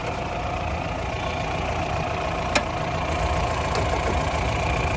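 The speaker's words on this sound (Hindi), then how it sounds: "इंजन की एक बार आपको मैं आवाज़ सुना दूँ" A Mahindra Bolero pickup's CNG engine idles close by with a low, even rumble that holds throughout, one brief click partway through.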